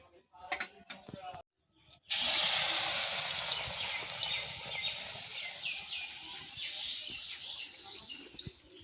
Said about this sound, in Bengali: চলো বাকি চপগুলো ভেজে নিই।